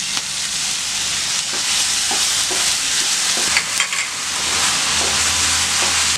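Honey going into a hot pan for a Chinese-style honey chicken sauce, with a loud, steady sizzle and frying hiss, near and continuous, and a few faint stirring clinks; no talking.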